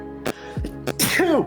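A sharp, loud sneeze bursts out, followed by a short vocal sound, with brief voice fragments before it.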